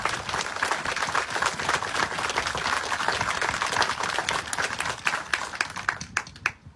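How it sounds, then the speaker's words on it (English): Audience applause for junior Marines at a retirement ceremony, steady dense clapping from a crowd that holds through and thins into a few scattered claps at the end. "please give them a round of applause"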